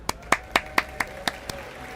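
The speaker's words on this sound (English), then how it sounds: "So give yourselves a round of applause." At the 2024 Pokémon World Championships finals, seven distinct claps sound in a steady beat and gradually fade. They come across faint and sparse rather than as a full crowd roar.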